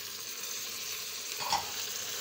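Onions and tomatoes fry in a pan with a steady, moderate sizzle, broken by a short stirring scrape about two-thirds of the way through.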